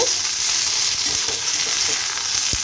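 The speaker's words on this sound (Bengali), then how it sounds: "ওগুলো দিয়ে ভেজে এগুলো দিয়ে একটু নাড়াচাড়া করব, একটু ভাজা করব" Green tomatoes stir-fry in a pan with garlic and a five-spice tempering, a bright close sizzle with a few soft scrapes of stirring and a knock near the end.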